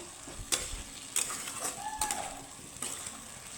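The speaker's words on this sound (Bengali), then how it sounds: "কুমড়োর সাথে আমি মশলাটাকে একটু নাড়িয়ে চেড়ে ভেজে নিব" Pumpkin pieces are stirred and fried with spices in a pan: a soft continuous sizzle broken by several sharp scraping strokes of the spatula at irregular intervals.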